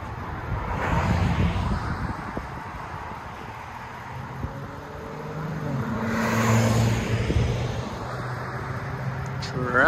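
A Nissan Titan with a 5.6L V8 and a MagnaFlow dual-in single-out exhaust with a 4-inch black tip idles and rumbles, swelling slightly partway through, with wind noise and a voice talking.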